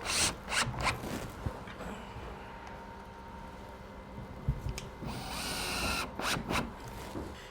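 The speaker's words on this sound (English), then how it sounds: "Now I'll put a screw in here." A power drill drives a screw during trim carpentry on a seaside Victorian cottage, whirring in a few short bursts nearby with some handling clatter and no talk.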